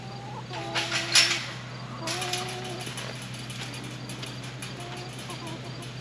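Chickens in a chicken house clucking and squawking in a lively chorus of repeated calls, loud bursts near the start then softer overlapping clucks over a steady low hum.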